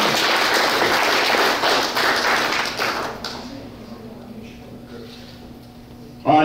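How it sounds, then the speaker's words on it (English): Applause from an audience at a Veterans Day award ceremony, a dense clatter of clapping that fades over about three seconds into quiet room tone with a faint voice. "Let's give him a great round of applause."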